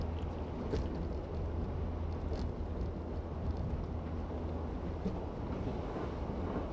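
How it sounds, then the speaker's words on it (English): Continuous wind roaring and buffeting against the microphone, a dense, steady rush with low rumble throughout and no voices. "It gets up here where it's really windy."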